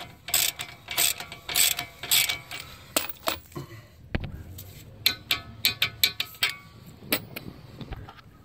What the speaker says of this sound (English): So we're going to torque this to 52 foot-pounds.